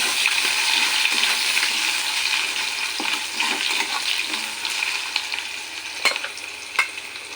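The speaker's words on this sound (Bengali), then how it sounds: "কড়াইতে তেল দিয়েছি আর আলু বেগুনটা ভেজে নিই" Pieces of potato and eggplant sizzle and crackle in hot oil, with occasional sharp scrapes and clinks of a spatula stirring, no talking.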